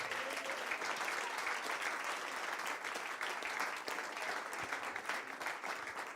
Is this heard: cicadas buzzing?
no